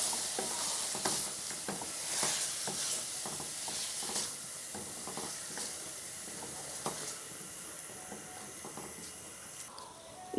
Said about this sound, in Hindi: दही को हमने अच्छी तरह से मिक्स कर लिया है।